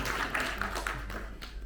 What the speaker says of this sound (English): If you have a consensus, you can clap here.